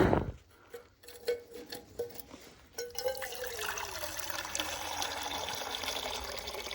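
Water is poured into a rabbit's winter water container holding leftover ice, first as a few brief trickles and then as a steady, close pouring stream.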